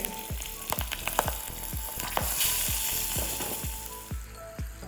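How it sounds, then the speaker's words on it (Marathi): A tempering of asafoetida, turmeric, dried red chilies and sesame seeds sizzling hard in hot oil, with rapid loud crackles and pops bursting in an irregular stream throughout, close and alone. "हिंग हळद लाल वाळलेल्या मिरच्या अशी मस्त तडका फोडणी करायची आणि त्यामध्ये तीळ घालायचे आहे"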